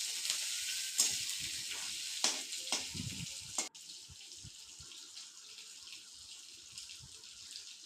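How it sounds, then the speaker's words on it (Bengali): Small shrimp frying lightly in oil in a pan, a soft hiss with brief bursts and a few clinks, louder in the first half and then settling into a quieter crackle. "কুচো চিংড়িগুলো হালকা করে ভেজে নেব"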